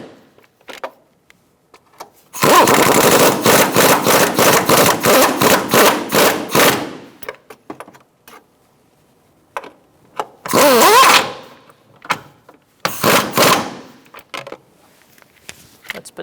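A power tool whirs in a long rapid burst, followed by two shorter bursts, while tightening nuts on the camshaft position sensor of a 2012-2019 Fiat 500 1.4L four-cylinder. The bursts are close and loud, separated by quiet gaps with faint clicks.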